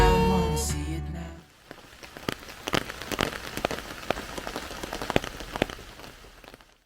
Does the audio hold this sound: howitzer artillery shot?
no